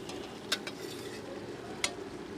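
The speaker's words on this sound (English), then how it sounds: "Now I'm going to add some mung peas, which I've soaked overnight, and stir those in." Soaked mung peas are stirred into masala and onions in a pan, producing a soft, steady sizzle with two sharp utensil clinks against the pan.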